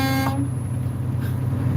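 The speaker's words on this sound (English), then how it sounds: "Love that honking sound." Horn honking from trucks in a road convoy, a sustained harmonic blast that cuts off early and gives way to steady, loud engine and road rumble.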